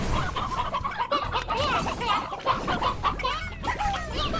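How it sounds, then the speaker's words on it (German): Chickens in the game Slime Rancher cluck and chatter busily, several birds overlapping in a continuous, close farmyard babble with a rooster among them. "Hühner."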